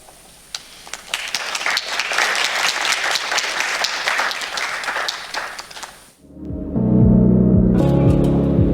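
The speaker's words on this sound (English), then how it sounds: "So big round of applause for the team that will host ISEA" An audience at an international annual general meeting applauds with sustained, full clapping for about six seconds, then it cuts abruptly to a louder, tonal passage with other sound.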